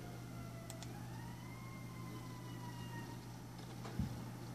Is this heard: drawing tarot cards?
no